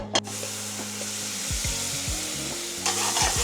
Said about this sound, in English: we are going to saute the garlic and onion nutmeg mixture that we made earlier